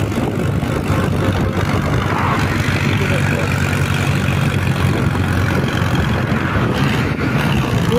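An Arjun 605 tractor engine labours hard while pulling a loaded trolley uphill, a loud, steady low rumble with wind buffeting the microphone, close and continuous throughout.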